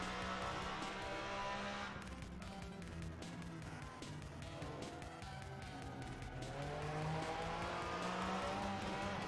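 A 2017 Porsche 911 RSR race car in Assetto Corsa, engine droning at high revs with gear changes and tire noise, heard close and steady while voices chat over it now and then.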